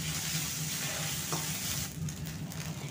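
Cumin seeds, ginger and green chilli fry in hot oil in a pan, a dense, steady sizzle heard close and continuous, with a light stir or scrape near the end and no talking.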